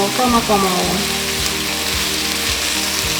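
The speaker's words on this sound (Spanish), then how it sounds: "Yo acá he empezado a freír la cebolla con los pimientos hasta que estén cristalinos" Onion and peppers frying in a pan for tuna croquettes, a steady close sizzle running the whole time, with brief light clinks of a utensil early on.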